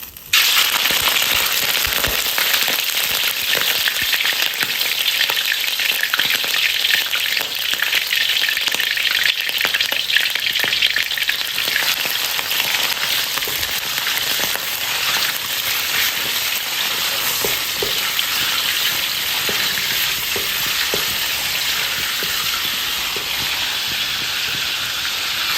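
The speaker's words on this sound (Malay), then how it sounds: "Kita akan goreng dahulu ayam ni" Chicken frying in a pan of hot oil, a loud, continuous close-up sizzle and hiss with crackling texture that holds steady throughout, no voices.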